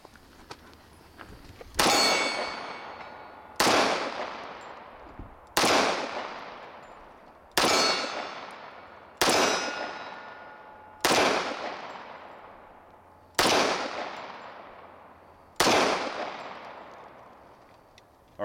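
Eight loud, sharp pistol shots from a Colt Gold Cup Trophy stainless 1911, spaced roughly two seconds apart, each with a ringing metallic decay, with no talking.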